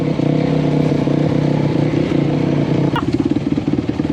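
A Honda off-road vehicle's engine drones loud and close on dirt trails, with a steady throbbing rev that picks up into a rougher, pulsing beat toward the end, alongside a brief clatter.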